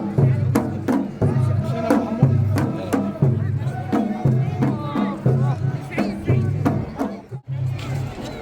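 A dense crowd at a Saudi National Day celebration awaiting fireworks fills the air with loud, continuous chatter and shouting, close all around, with voices rising and falling through the babble.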